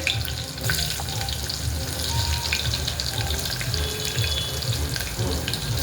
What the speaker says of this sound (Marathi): लगेच असा हुबा चिरलेला कांदा टाकून घेऊया